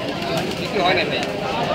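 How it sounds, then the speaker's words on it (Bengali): Pigeons coo softly in the background at a busy village pigeon market, faint and scattered beneath people talking close by. "অনেক কবুতর"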